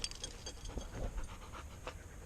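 A hyper Dutch Malinois dog pants close by in quick, steady, breathy huffs that go on throughout, fairly quiet and unbroken, with no talking.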